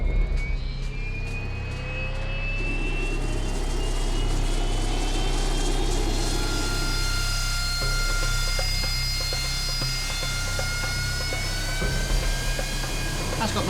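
An aircraft taking off from a Royal Navy warship, its jet engine roaring loud and steady throughout, with a rising whine and a deep rumble that persists.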